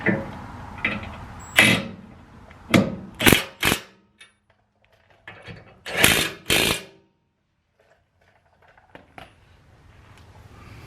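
Ratchet or wrench tightening nuts while fitting a Curt trailer hitch to a Jeep Gladiator: several sharp, close bursts of metallic clicking and clanking separated by quiet gaps, no talk.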